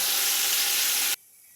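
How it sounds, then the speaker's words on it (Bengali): Ground green banana paste with onions frying in a pan gives a loud, steady sizzling hiss that cuts off abruptly near the end, leaving faint background. "এবার মিক্সি গ্রাইন্ডারে যে বেটে রেখেছি কাঁচকলাটা ওটা দিয়ে দেবো, দিয়ে শুকনো করে ভাজতে থাকবো।"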